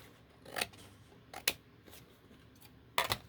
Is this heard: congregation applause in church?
no